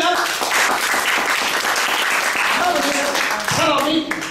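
Audience applause at a talk on the Elken system, a dense, steady wash of clapping from a crowd that fills the room, with a voice speaking over it toward the end.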